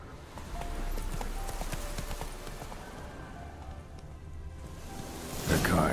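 In The Witcher 3 video game, a horse's hooves clip-clop in a rapid, continuous gallop at moderate volume over outdoor ambience, ending with a brief burst of noise.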